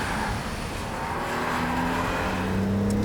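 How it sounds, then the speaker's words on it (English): A car engine roars steadily at high revs, a loud continuous drone that climbs slightly in pitch toward the end. "Fifth gear acceleration is phenomenal."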